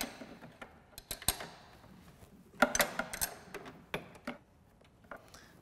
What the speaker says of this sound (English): From inside the chassis, I'll get a socket on that upper fastener, and then a wrench on the other side. Go ahead and break those loose.